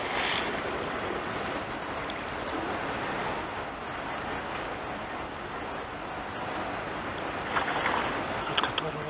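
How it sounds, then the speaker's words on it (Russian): A ferry crosses the Aldan river with a steady, even rush of water and engine wash, constant and fairly close throughout, with a few faint knocks near the end. "Паром, река Алдан, переправляемся на берег."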